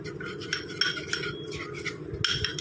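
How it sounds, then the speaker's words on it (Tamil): A spoon stirs coffee powder into a face pack mixture in a small bowl, giving repeated light clinks and scraping swirls, close and soft with no talk. "ஆட் பண்ணிட்டு இதை நல்லா மிக்ஸ் பண்ணி விட்டுக்கலாம்."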